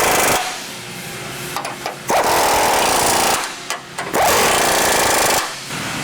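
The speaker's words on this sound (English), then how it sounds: "Now we're gonna tighten up these lower factory bolts here. This is just an 18mm socket." A power impact tool with an 18mm socket tightening the lower factory bolts while a rear bumper is fitted to a Ford Bronco, two long loud rattling bursts separated by short pauses, close to the microphone.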